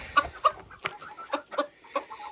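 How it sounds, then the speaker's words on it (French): A small black cuckoo-patterned German-strain broody hen with a chick, clucking in a series of short soft calls at irregular intervals, close by. "une petite poule noire cailloutée, souche allemande qui couvait avec son petit poussin"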